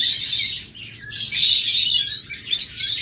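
Pet birds such as lovebirds, budgerigars and cockatiels at a bird seller's chirp and tweet in a busy, overlapping chorus of high, bright calls nearby, with no talking.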